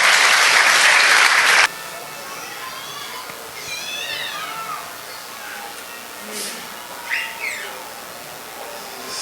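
A church congregation bursts into loud, dense applause praising God during a healing service, then the clapping cuts off abruptly after about two seconds, leaving a quieter room with faint voices and scattered high chirps.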